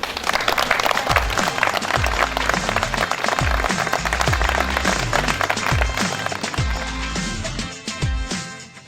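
A crowd applauds the potters at a village well inauguration in Ferrette, outdoor clapping with dense cheering, over a loud rhythmic music beat that fades toward the end.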